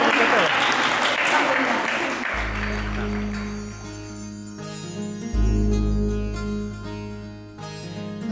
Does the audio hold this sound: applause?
yes